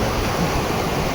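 River water rushes during a bike crossing on a mountain race route through Kyrgyzstan. The steady broadband wash is loud and close, with no voices over it.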